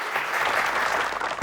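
Brief burst of applause from a group clapping steadily throughout, loud and close, in a Hindi courtroom comedy scene.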